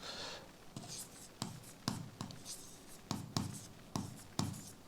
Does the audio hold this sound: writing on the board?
yes